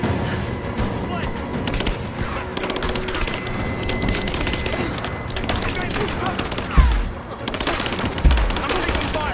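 Gunfire in Rise of the Tomb Raider, loud and sustained with rapid overlapping shots and a couple of heavier thumps over chaotic combat noise, with voices shouting amid it.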